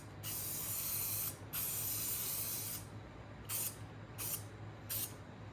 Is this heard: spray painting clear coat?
yes